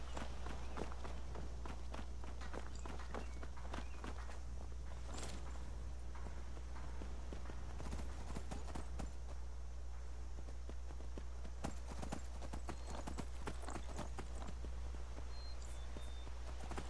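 Steady clip-clopping of horse hooves as a mount is ridden in Skyrim, a continuous rhythmic trot running the whole stretch over a low constant hum with faint background game ambience.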